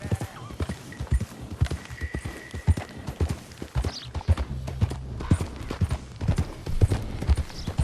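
Horse hooves clip-clop at a steady trotting rhythm in Red Dead Redemption 2, close and clear over low game ambience, with a faint snort or whinny mixed in.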